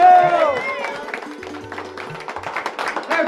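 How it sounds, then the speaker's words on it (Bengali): Clapping rings out at a wedding anniversary celebration, quick scattered claps building under singing and cheerful voices, close and fairly loud. "জোরে হাততালি হোক"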